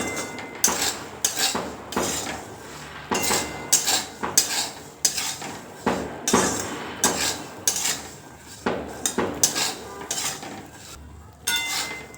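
Salted peanuts roasting in a home pan are stirred with a metal utensil, giving repeated rhythmic scraping and rattling strokes, close and fairly loud, with no talking.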